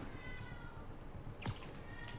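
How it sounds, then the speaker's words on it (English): A cat meows once, brief and fairly close, over a low steady background hum during play of a Spider-Man video game. "The cat's nagging, isn't he?"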